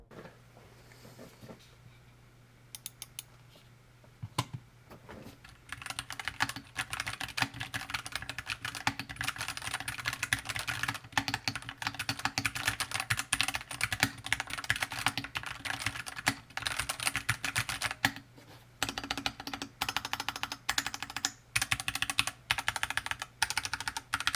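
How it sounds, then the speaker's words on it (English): Rapid clacking of a Tezarre TK63 Pro 60% mechanical keyboard, starting with a few scattered keystrokes before settling into fast, continuous typing, close and clear with no talking. "here is a quick typing test"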